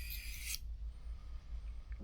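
Simple carbon steel vintage pocket knife being sharpened: one short, bright rasping stroke across the blade, then near silence, then the start of a second stroke at the very end.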